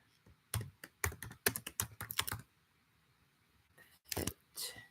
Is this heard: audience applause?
no